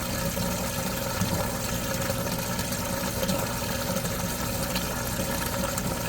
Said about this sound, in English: it is pumping a lot of water through there